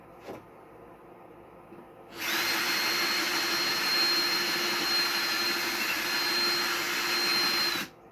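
Power drill with a wider bit boring steadily into a shell for a Minecraft-themed habitat build, a loud continuous whine that starts abruptly after a quiet moment, holds for about six seconds, then cuts off.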